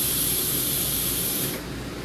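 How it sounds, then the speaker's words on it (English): Air hissing out of an Air Lift 2K airbag dump valve, a steady broad close-up hiss that drops in intensity near the end, with no talking. "It bleeds it back out. There's a dump valve in action."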